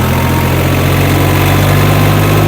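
A YTO 244 SX tractor engine runs steadily while sowing winter wheat with a Fiona seed drill, a loud, close, continuous diesel drone with mechanical vibration and no voices.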